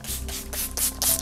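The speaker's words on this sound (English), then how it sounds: "And you can also use your spray bottle, remember, directly on the paper." A hand spray bottle mists water directly onto watercolor painting paper in several quick, close hissing bursts.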